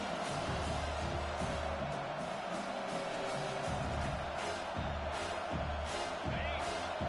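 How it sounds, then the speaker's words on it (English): A home crowd roars at a college football game in College Football 25, steady broad cheering that swells throughout, heard under a low game hum and a commentator's voice. "Here comes this home crowd as the defense tries to get off the field on 3rd down."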